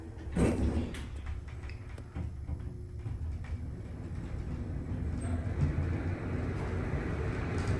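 Inside an Otis Series 4 high-speed elevator at the Westin Peachtree Plaza downtown, the doors slide with a brief thump and rumble, followed by a low, steady hum as the car travels.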